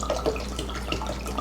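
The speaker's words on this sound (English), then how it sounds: "And then lastly, I'm going to put in some white wine." Homemade white wine is poured into a Portuguese linguiça sausage mixture, giving a steady, close, trickling liquid stream with faint splashes and no talking.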